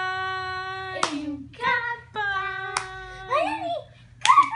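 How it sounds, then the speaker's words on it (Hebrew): A few sharp hand claps sound at home around a crawling baby, spaced a second or two apart, between an adult's lilting, sing-song voice and a child's babble. "כפיים!"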